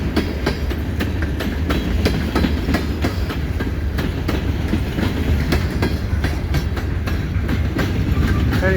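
A CN freight train hauling new Ontario Northland hopper cars rolls past westbound on the nearest track on a winter evening, loud and close, with a steady rumble and regular clickety-clack of wheels over rail joints.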